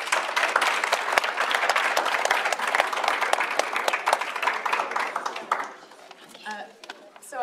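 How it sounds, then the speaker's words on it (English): Audience applause for an arts and media panel discussion, dense steady clapping from a crowd that carries for several seconds before thinning out, with a voice speaking faintly near the end. "Round of applause for the panel, please."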